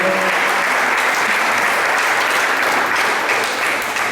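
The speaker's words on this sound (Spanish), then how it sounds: "le damos un fuerte aplauso a Dios por eso" Loud, dense applause fills a Sunday Christmas church service as the congregation claps for God, a thick, even wash of hands heard alone for several seconds.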